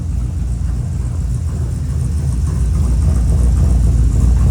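A 1957 Chevrolet Bel Air two-door hardtop idles close by, its engine holding a steady, deep low rumble that swells slightly louder toward the end, with no voices.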